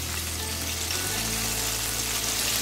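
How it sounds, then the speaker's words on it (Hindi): Crispy chicken pieces fry in hot oil in a wok, giving a loud, steady, dense sizzle that continues without break. "ये देखें ऐसे हम इसको फ्राई कर लेंगे"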